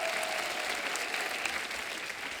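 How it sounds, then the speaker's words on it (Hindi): A crowd applauds guests on a Hindi comedy talk show, with steady, dense clapping heard fairly faint and evenly sustained, and no speech over it. "एक बार जोरदार तालियां हमारे मेहमानों के लिए."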